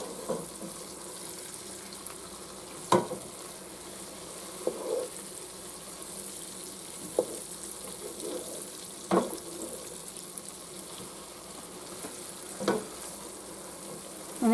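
Onions sautéing in a pan for French onion soup give a soft, steady sizzle, broken roughly every two seconds by a sharp knock or scrape of a utensil against the pan.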